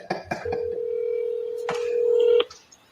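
A telephone number being dialed: a few quick keypad tones followed by a long steady tone, then another short burst of tones, clear and close with no talking.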